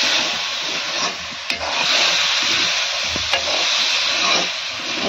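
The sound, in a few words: meat being stirred and fried in a pan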